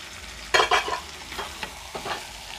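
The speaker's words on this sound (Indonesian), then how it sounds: "Kita aduk-aduk sampai bumbunya meresap" Chicken and potato pieces fry in a spiced paste while a utensil stirs and scrapes through the pan, giving a few sharp close stirring clatters over a steady soft sizzle, with no voices.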